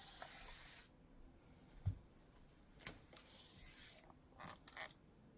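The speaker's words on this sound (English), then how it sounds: "And I'm going to spray this pretty good." A spray bottle misting fabric during a sewing project, several short hissing bursts close by and fairly quiet, with soft handling rustles between them and no talk.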